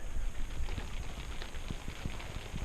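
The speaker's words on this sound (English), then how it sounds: "Getting some rain." Rain falls outside around a parked RV, a dense steady patter with scattered heavier drops tapping the surface, moderately quiet and continuous with no talking.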